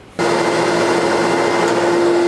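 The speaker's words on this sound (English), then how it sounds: "Go ahead and run the vacuum." A vacuum cleaner switches on abruptly and runs at a loud, steady whine with a constant tonal hum, close by and uninterrupted.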